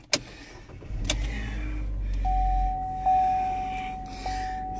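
A 2014 GMC Terrain with 110,000 miles being started from inside: a sharp click, a quick cranking catch, then a steady low engine idle with a chime tone sounding over it.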